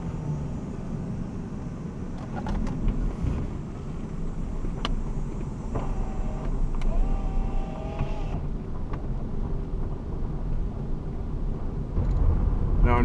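A Jaguar XJS V-12 engine runs steadily at a smooth, low rumbling idle, close by, with a slight rise in level near the end and no talk.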